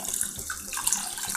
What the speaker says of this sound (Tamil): ஃபஸ்ட்டு இதில் தண்ணி விட்டுறேன்